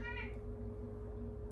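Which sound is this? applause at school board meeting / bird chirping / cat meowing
cat meowing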